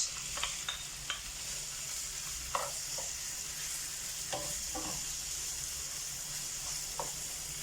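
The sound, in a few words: chicken pieces frying in oil with garlic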